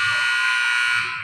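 A loud, sustained electronic buzzer sounds at the end of the first half of a boys' high school basketball game, a steady harsh tone that fades slightly at the close, with crowd noise underneath.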